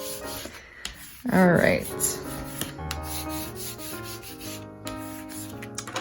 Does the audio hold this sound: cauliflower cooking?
no